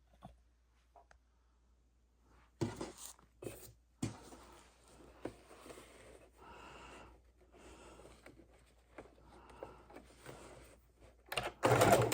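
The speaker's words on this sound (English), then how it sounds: "So back over to the sewing machine." A sewing machine runs in short, uneven bursts of rapid stitching while sewing an art roll's pockets, with pauses and faint clicks between runs, fairly quiet and close.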